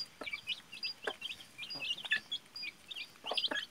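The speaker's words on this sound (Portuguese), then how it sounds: "Mini galinhas." Small hens cluck in short, sharp bursts close by, several calls scattered across a few seconds, fairly quiet with no talk over them.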